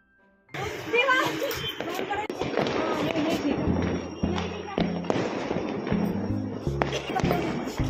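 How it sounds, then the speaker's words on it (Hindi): Diwali firecrackers burst amid festival celebrations, a dense string of loud, close pops and thuds that keeps going after a sudden start, while children shout and chatter throughout. "यहाँ पर तो देखना इतने ज्यादा पटाखे फूट"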